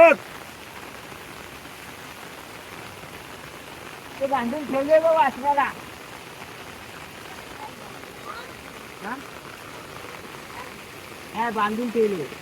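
Heavy rain pours steadily over a village in the Konkan jungle, a constant wash of falling water with people talking in short bursts through it.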